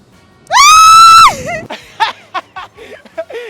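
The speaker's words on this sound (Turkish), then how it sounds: "Çığlıklarını duyacak mıyız?" One loud, sustained high-pitched scream from a rider on an amusement park ride, then breathy laughter and voices nearby.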